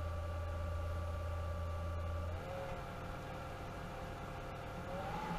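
A Hayward Super Pump VS variable-speed pool pump runs steadily with a low, even hum and a faint whine whose pitch shifts slightly partway through, with no voices.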